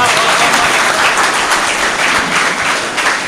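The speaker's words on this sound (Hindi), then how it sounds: "एक बार उर्दू के इस खादिम के लिए जोरदार तालियां हो जाए" A mushaira audience bursts into loud, dense applause, many hands clapping together in a steady roar that holds at full strength for the whole stretch.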